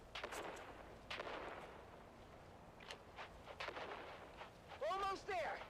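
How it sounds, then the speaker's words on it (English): Grenade blasts in the game Dune Awakening, a series of booming bursts across the clip with broadband noise, ending in louder thumps, with voices talking over the action. "On three, we grenade and move."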